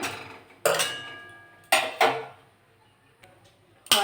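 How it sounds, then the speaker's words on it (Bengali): A metal kadai set down on a lit gas stove: a few sharp, ringing metallic clanks with short decays, then quiet with a faint tick near the end. "গ্যাসটা জেলে নিলাম কড়াটা বসে দিলাম"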